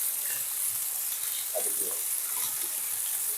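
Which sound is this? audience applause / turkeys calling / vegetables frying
vegetables frying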